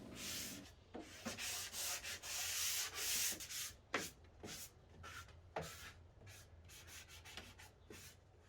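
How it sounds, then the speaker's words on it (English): A 220 grit sanding sponge is rubbed lightly over a painted furniture surface, making close, soft rasping strokes. A long sweep comes first, then shorter repeated passes in an uneven rhythm, with no talking. "I grabbed that 220 grit sanding sponge and lightly went over the surface again"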